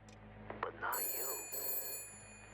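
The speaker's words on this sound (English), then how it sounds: "Oh, the phone's ringing." A telephone in the Shadows of Doubt video game rings with a bright, sustained electronic tone over a low background hum, preceded by a few short clicks and soft game sounds.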